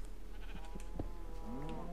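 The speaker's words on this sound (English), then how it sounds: "All these damn cows." Cows penned in a cage right beside a house on a video game farm, giving overlapping low lowing calls that end in a drawn-out, wavering moo, with no talking.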